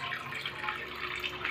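A tap runs in a steady, close splashing stream of water with a faint ringing tone underneath and no talk.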